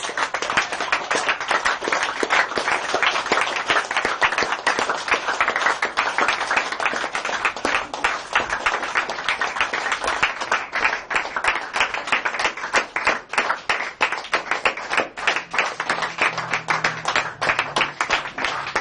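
A church congregation claps their hands continuously during a worship service, a dense, steady roar of many hands with faint rhythmic pulses running loud throughout.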